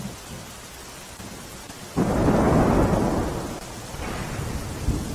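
Heavy morning monsoon rain over a rural village area swells suddenly into a loud, sustained roar with rumbling thunder, easing slightly before a second surge; steady downpour fills the scene with no voices.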